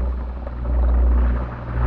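Helicopter in the Delta Force video game: a steady, heavy low rotor rumble that swells slightly and holds throughout, loud and continuous with no talk over it.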